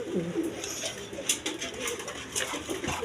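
A pair of German Beauty pigeons, female in front and male behind, coo in soft repeated calls nearby over a noisy background.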